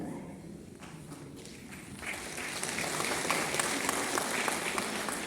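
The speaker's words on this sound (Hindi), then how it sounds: "आप यहाँ पे ताली मत बजाइए" An audience at a program in Guwahati, Assam, breaks into applause that starts light and scattered, then swells into steady, fuller clapping that keeps going to the end.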